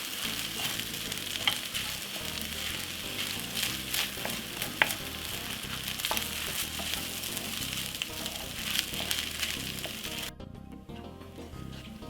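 Egg fried rice made with basmati rice fries in a pan, a loud, steady sizzle with constant stirring scrapes and small crackles, cutting out abruptly near the end.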